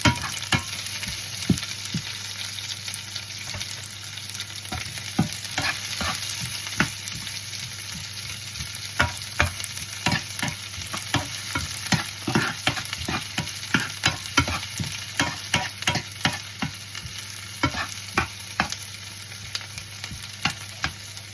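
Onions fry in a pan with a steady close sizzle, broken by frequent scraping clicks of a utensil stirring them throughout.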